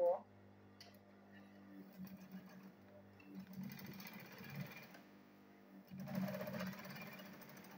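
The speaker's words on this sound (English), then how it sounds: "Then I'll sew this side also." A domestic sewing machine stitches the side seam of a handmade fabric hand bag, its steady hum running in bursts under a speaking voice.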